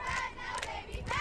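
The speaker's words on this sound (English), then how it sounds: "That is the Falcon cheerleaders getting the fans on their feet. As you can see, it is a sold-out crowd here" A sold-out stadium crowd of about 48,670 fans, roused to their feet by the Falcon cheerleaders, roars and chants in a sustained mass of voices with rising shouted swells.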